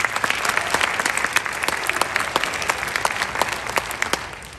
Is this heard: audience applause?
yes